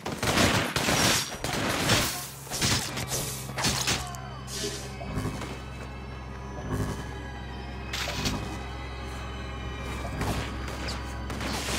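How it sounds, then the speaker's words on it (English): Enemy gunfire from the superhero action game inFamous 2, a dense early fusillade of sharp shots that thins into scattered reports and thuds over a steady low hum, fairly quiet overall. "There's some idiots down there shooting up anything that moves."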